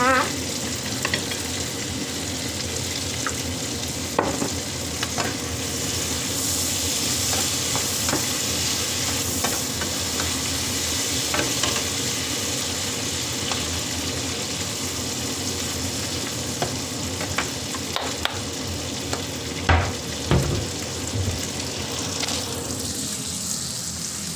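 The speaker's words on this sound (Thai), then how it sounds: "ผัดพริกนะคะผัดพริกบาปิก้านะคะ" Paprika peppers stir-fried in a pan produce a continuous hiss and crackle, with repeated spatula scrapes and clacks against the pan and a few sharper knocks near the end, without talk.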